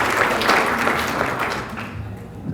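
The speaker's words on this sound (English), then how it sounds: "Please give them all a round of applause." A business development conference audience applauds loudly and steadily, with the dense clapping tapering slightly toward the end.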